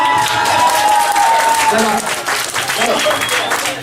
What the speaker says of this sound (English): Round of applause for Becca